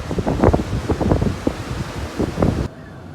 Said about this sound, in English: The wind is picking up as the sun goes down.